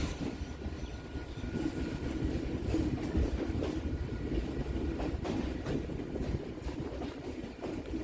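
A Kolkata local train on the Barrackpore to B.B.D. Bag circular rail line runs along the tracks with a continuous close rumble, wheel clatter and a faint squeal throughout.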